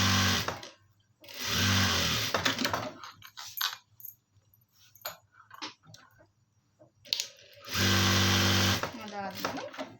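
A sewing machine stitches down a garment lining in bursts, loud whirring runs at the start and near the end with quieter handling and rustling between, and a voice speaking at points.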